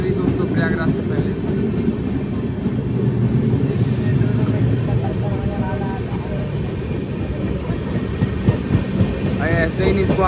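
The Sampoorna Kranti Express overtakes on the adjacent line before Prayagraj, giving a heavy, sustained rumble of wagons and wheels close by, loud and unbroken, with faint clatter riding on top.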